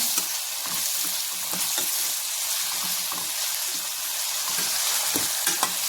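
Onion and tomato fry in oil with a continuous close sizzle and hiss, punctuated by repeated spatula stirs and scrapes at an even rhythm.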